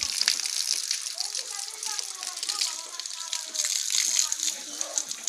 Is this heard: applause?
no